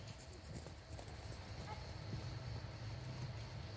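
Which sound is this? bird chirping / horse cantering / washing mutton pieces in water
horse cantering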